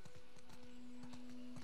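Horse hooves in the video game The Last of Us Part II, a repeated clip-clop of hoofbeats at a steady gait over a constant background hum, with no talking.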